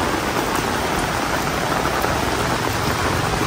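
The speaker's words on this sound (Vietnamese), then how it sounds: "Quá trời ơi, mưa gió quá trời quý cô chú anh chị." Heavy rain pours steadily with wind in a dense, unbroken hiss, loud and close, falling at a graveside memorial, with no voices over the constant downpour.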